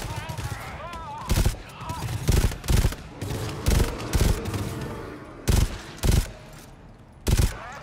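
Rapid gunfire in a multiplayer shooter, including three-round bursts fired through a window crack, sounding as loud sharp bursts spaced irregularly, with players talking between them.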